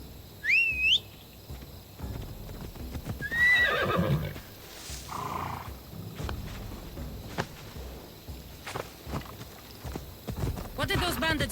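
A horse in Assassin's Creed Odyssey whinnies twice, with a rising shrill neigh near the start and another around the middle, over soft clip-clop hoofbeats and rustling game ambience.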